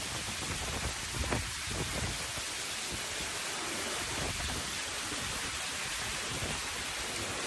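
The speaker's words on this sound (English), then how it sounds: "On the street, a large storm swept in, transforming the landscape into a chaotic and fierce painting." Heavy rain pours steadily onto a street during a large storm, a dense, continuous roar of hissing downpour with occasional louder gusts and splashes, no voices.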